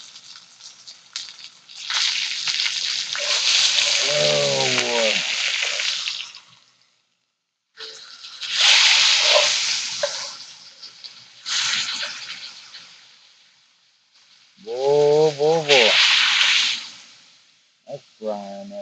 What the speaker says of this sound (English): frying up real good.